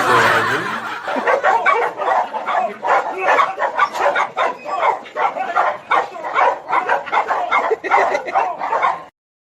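A dog barks repeatedly in quick, rhythmic bursts, loud and close, for several seconds before stopping abruptly.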